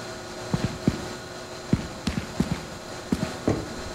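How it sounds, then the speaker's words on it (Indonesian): Footsteps in the video game Content Warning, a run of soft, irregular thudding steps at close range over a steady background hiss. "Ini suara stepnya rada nyebelin."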